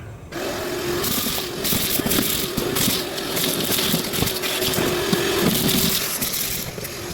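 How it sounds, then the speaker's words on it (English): A vacuum cleaner sucks broken window glass out of the driver's door of a 2005 Ford Mustang GT, a loud continuous whooshing roar with rattling, crunching bits of glass throughout and no talking. "let me get in here with a vacuum and let me clean some of that out"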